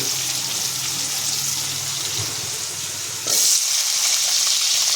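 Cut potatoes sauté in oil in a pan for a broccoli-potato gravy, a steady hissing sizzle that turns briefly louder and brighter partway through, with no talk.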